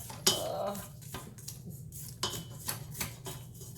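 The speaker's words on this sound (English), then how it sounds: "Let me give this a scrape here." A utensil scrapes and clinks around a bowl of oatmeal cookie dough mixed with egg, a few sharp metallic knocks and scrapes spaced unevenly, close and moderately loud over a low steady background hum.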